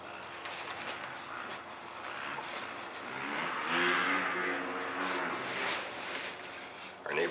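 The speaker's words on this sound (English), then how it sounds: "Our neighbors are riding their dirt bikes, of course, while we're filming" Dirt bikes ride nearby outdoors, their engines droning and rising and falling in pitch as they rev and pass, steady throughout with a sharper burst near the end.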